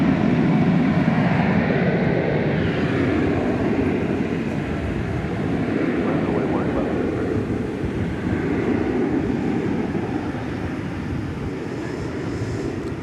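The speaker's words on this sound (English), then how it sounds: "American Flight 2318 to Los Angeles is going through the viewfinder there" An American Airlines jet moves along a runway at DFW Airport with a steady, broad roar that stays loud and continuous throughout, with wind noise on the microphone.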